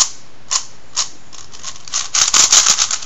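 A freshly lubed puzzle cube has its layers turned, giving a few short, close clicks and then a quick burst of soft rattling plastic scrapes, with no voices.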